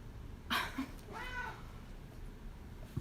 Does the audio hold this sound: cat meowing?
yes